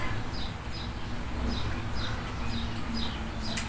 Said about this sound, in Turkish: Bunlar çok ötüyor ha değil mi? O büyük gelen kuşlar ötüyor.